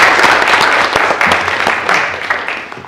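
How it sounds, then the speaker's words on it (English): Audience applause at a county board of supervisors meeting, a dense, loud burst of clapping that tapers slightly toward the end. "that deserves a round of applause"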